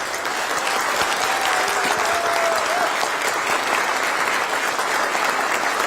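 Sustained, even applause fills a hall as a crowd greets two guests at a Korean community welcome reception, many hands clapping continuously from start to finish.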